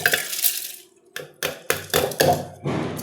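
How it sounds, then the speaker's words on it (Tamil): Dry rice and lentils rattle and clatter into a hard mixer jar in a handful of short, close pours, with brief pauses between them. "இதை இப்போ இந்த அரிசி உளுந்து மட்டும் மிக்ஸி ஜாரில் சேர்க்க போகிறோம்."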